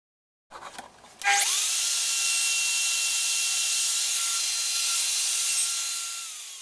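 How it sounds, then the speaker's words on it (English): A WoodRat router cutting a dovetail centre socket in wood: a motor whirs up sharply and then holds a loud, steady, high-pitched whine with faint rubbing as the bit runs along the cut. "we now move it along to the centre line so we can cut the centre socket"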